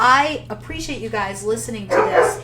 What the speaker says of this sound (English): oops, my dog is barking